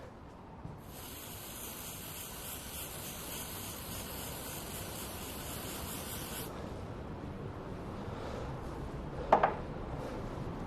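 A golf iron's club face being sprayed, a steady close hiss lasting several seconds and then cutting off, followed by quiet room noise and a brief faint clink.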